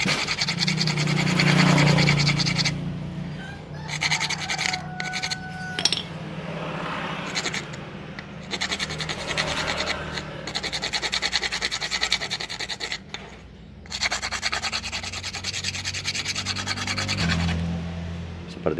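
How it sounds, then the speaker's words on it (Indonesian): Worn rear disc brake pads from a Honda Supra 125 motorcycle are scraped with coarse sandpaper, a continuous close rasping scratch in long strokes with brief pauses. "Atau pakai amplas yang kasar."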